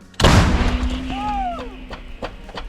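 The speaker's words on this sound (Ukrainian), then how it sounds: "Постріл!" A single loud gunshot cracks out near the start, followed by a long echoing boom and a fading whistling tail.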